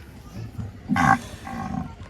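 A single short, deep bull's moo with a grunting edge, close by, followed by a softer low call.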